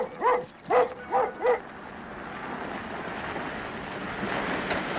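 A dog barks four times in quick succession on an old Hollywood Western set, loud and close, followed by a steady wash of background rumble with no voices.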